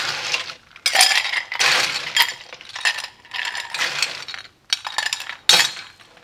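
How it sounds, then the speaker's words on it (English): Ice cubes dropped into a stemmed glass, a run of close, bright clinks and rattles arriving in bursts with short pauses between scoops. "Lots of ice in there."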